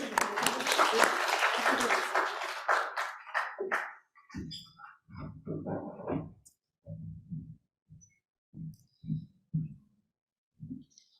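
Applause at a business dialogue on the RCEP trade agreement rises briefly, then thins and fades out over about four seconds, followed by scattered bursts of a voice speaking in a quiet room.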